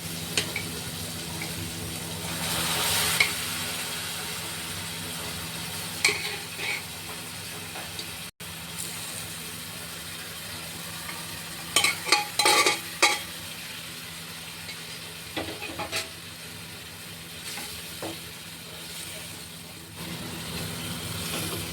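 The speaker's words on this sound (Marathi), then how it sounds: "मसाला चांगला परतून झालाय। याच्यामध्ये चणे ऍड करून घ्यायचे।" Chickpeas being stirred into fried masala for a dhaba-style chana masala, with a low continuous sizzle and scattered scraping stirs across a long stretch, plus a brief sharp cluster of clatter midway.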